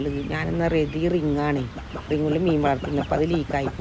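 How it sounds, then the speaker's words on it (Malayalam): Backyard chickens cluck and call while feeding, close and fairly loud, mixed under someone talking throughout. "നല്ല തീറ്റ കേട്ടോ എൻ്റെ കോഴികൾ."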